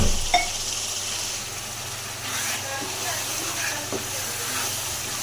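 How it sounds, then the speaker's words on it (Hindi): Spiced chana dal masala frying in a pan for a spinach and chana dal dish, giving a steady soft sizzle and hiss throughout with a few brief stirring clinks near the start. "अच्छे से इसको भूनना है।"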